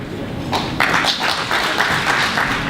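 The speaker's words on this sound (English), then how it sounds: "can we give another round of applause to Mr. Inanc Balci, please?" Audience applause at a business guest-of-honor address, a steady broadband clatter of many hands clapping that fills the room, fairly loud and continuous for a few seconds with no talk over it.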